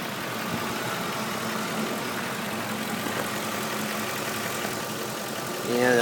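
A 5.4 liter V8 in a 2005 Ford F150 4x4 idles quietly and steadily at a moderate distance, a soft low running hum held throughout with a brief louder swell at the end.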